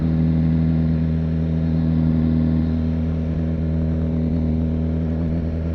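A 2015 BMW S1000RR motorcycle cruises through a city with a steady, even mid-pitched engine drone and whirring hum, held close and constant throughout without speech.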